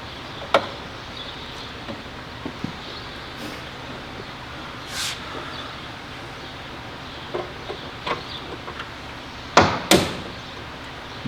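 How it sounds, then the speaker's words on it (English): Sharp metallic hammer blows knock the center pin out of a window regulator from a 1997 Ford Crown Victoria LX's left front door. The hits are irregular and scattered, with two loud close strikes near the end over steady garage background noise. "Now what I'm doing is I'm knocking the center out of this on this window."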